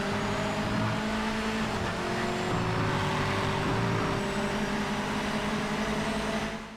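A racing car engine in the Project Motor Racing sim drones steadily, a constant sustained motor tone with little else around it, fading at the very end.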